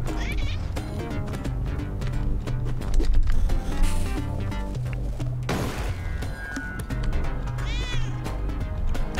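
Cat meowing in the video game Spelunky 2, several distinct meows and cries over busy game music and effects.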